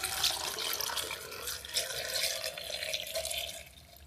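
Water poured steadily into a jar of apple scraps to make vinegar, a continuous close splashing trickle that runs without a break and thins slightly toward the end, with no voices.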